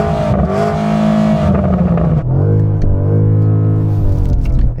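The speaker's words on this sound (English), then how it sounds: "Go on, Sam, you rev yours." A BMW M5 estate's engine revs hard in full exhaust mode, climbing, dipping briefly near the two-second mark, then surging again in loud, close, sustained bursts with no talking.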